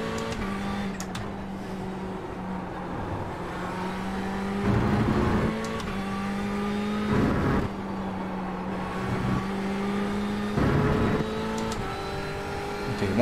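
Ferrari 488 GTE race car engine droning steadily around Laguna Seca in iRacing, a sustained harmonic tone rising and falling with gear changes and throttle lifts, close and loud throughout with no talk.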